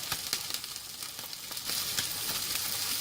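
Mackerel sizzles as it grills in a hot pan, a steady, dense crackle with small pops that grows slightly louder partway through.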